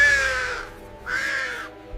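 Two loud, harsh caws from a raven in a forest, each drawn out and rasping, separated by a brief pause, close and clear over a quiet background.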